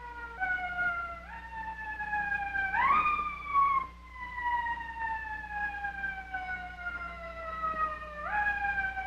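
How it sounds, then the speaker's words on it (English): Rising and falling emergency siren wails repeatedly, sweeping up sharply then gliding slowly down in long cycles, moderately loud and somewhat distant with a low steady hum underneath. "I hear a siren."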